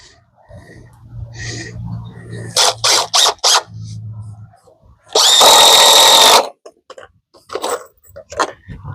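Power drill driving screws into the framing of an 8x8 side wall for an off-grid tiny house, several short whirring bursts and then one longer sustained run up close, with a low hum and scattered knocks between.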